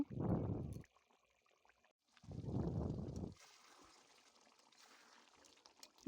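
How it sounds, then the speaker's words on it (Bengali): Chicken curry gravy made with wings and necks boils in a pot, giving two separate bursts of low, dense bubbling, each about a second long. Between and after them only a faint, thin hiss remains. "মাংসের ঝোলটা ফুটে গেছে"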